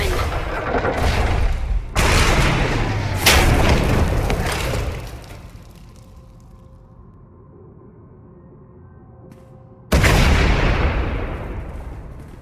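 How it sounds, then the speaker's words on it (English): Several loud booming blasts with rumbling debris in Star Wars: The Old Republic, separated by a quieter stretch of low hum, then another heavy blast near the end. "We heard explosions."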